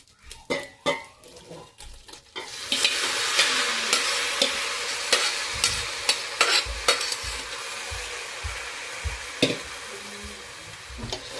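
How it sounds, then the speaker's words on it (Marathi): Prawn gravy and rice frying in a pan are stirred with a utensil, giving steady sizzling with repeated scraping clinks against the pan, a few sharper knocks at the start, close and loud with no talking. "मस्तपैकी ग्रेव्ही फिरून घ्यायची"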